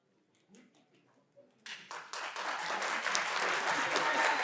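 An audience at a school board of education meeting starts with a few scattered claps, then builds quickly into steady, full applause from the room.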